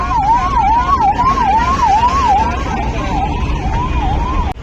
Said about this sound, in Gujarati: અહીંની તમે એમ્બ્યુલન્સ જુઓ